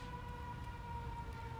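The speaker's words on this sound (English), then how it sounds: "siren and machinery going on." A faint, distant siren holds a steady tone over a low hum of machinery, with no other sounds rising above it.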